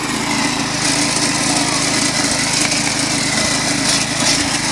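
A motorized lawn mower runs steadily while cutting grass, its engine drone loud, close and unbroken throughout.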